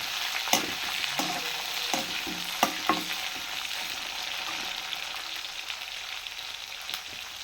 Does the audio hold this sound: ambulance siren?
no